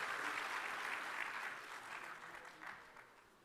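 Warm applause from a large audience at a summit closing ceremony greets the Prime Minister of Senegal, a dense, fairly faint patter of clapping that slowly tapers off over a few seconds.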